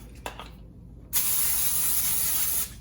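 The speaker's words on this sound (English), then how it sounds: "I'm gonna spray it with some vegetable oil" A couple of faint clicks, then a steady aerosol spray of vegetable oil hisses close up onto a baking tray for about a second and a half before cutting off.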